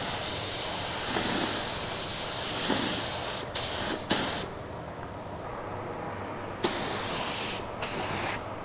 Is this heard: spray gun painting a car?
yes